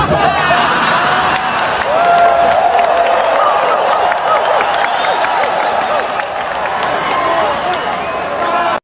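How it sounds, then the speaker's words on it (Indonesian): Party cadres at a political rally clap and cheer in a dense, continuous crowd roar, with voices shouting and talking throughout. "ada ketua umum partai bilang dasmu, terus kemudian kader-kadernya tepuk tangan"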